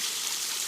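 Water rushing steadily out of the flow regulator on a Zorbo pool robot, a brief close hiss of flowing water.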